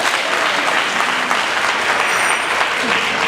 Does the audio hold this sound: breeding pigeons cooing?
no